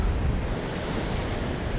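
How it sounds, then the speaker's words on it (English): Steady roar of waves breaking on a shore, with wind noise buffeting the microphone. "it looks like the waves are breaking over it"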